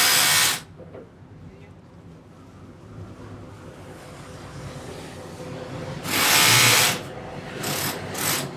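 A plumber's power drill runs while fitting a pipe indoors, heard as loud, short whirring bursts: one at the start, then two more near the end, separated by a long quieter stretch of low background noise.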